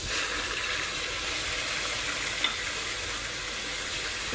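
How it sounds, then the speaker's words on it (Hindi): Dry spices frying in oil for a bottle gourd and beef curry, a bright, even sizzle close up and continuous, with one small tap partway through. "इसमें मैं सारे ड्राई मसाले जो हैं वो डाल दूँगी।"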